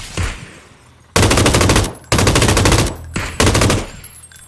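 Loud automatic gunfire rips out in a shooter video game, three long rapid bursts close up, separated by brief pauses, with no talk over them.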